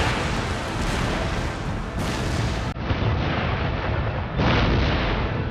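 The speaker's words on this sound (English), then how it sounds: "the barrage has already started." An artillery barrage from the video game Empire: Total War, Prussian campaign, rolls on as a dense, loud, continuous wall of overlapping cannon booms and blasts with no pauses.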